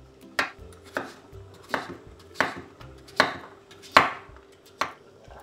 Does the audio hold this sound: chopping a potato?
yes